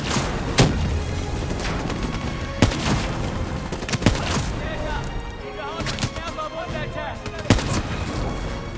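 Call of Duty: Black Ops III combat with a frag grenade amid gunfire: sharp, loud shots and booming blasts recur every second or so over a continuous din of distant fire, with voices shouting underneath.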